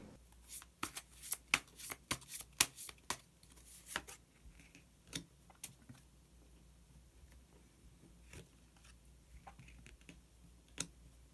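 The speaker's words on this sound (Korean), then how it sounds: "마지막으로 히든 카드 한 장 더 뽑아보도록 하겠습니다" Tarot cards are shuffled and drawn, with dense bursts of crisp flicking and slapping card sounds at first, then sparser single clicks, close and fairly quiet with no talk.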